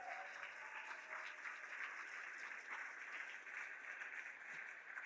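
An audience claps for newly certified black belts at a martial arts ceremony, a steady, fairly faint wash of many hands clapping with no pause.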